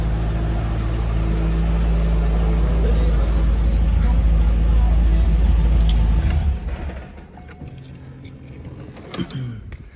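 A Corvette Z06 engine idles with a steady low rumble, then shuts off abruptly, leaving near quiet with a few faint handling noises.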